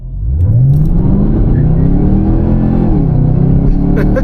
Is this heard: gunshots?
no